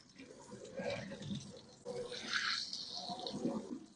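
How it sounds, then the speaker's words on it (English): Faint running water rinsing oven racks during a deep clean, a soft splashing flow with a slight surge midway, heard close but quiet. "we're going to move forward and rinse them thoroughly"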